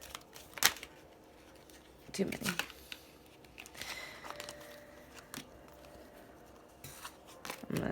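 Tarot cards riffle and snap in a few quick bursts, close by, separated by quiet pauses, with a brief spoken remark.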